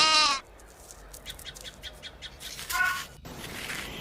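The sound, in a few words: sheep bleating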